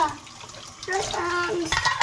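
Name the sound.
running water while bathing a child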